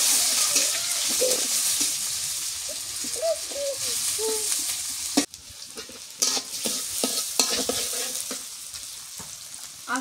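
Chopped onions and bay leaves frying in hot oil for a beef curry, a steady close sizzle with stirring clatter, briefly interrupted before crackling on with sharp spatula knocks and faint birdsong behind.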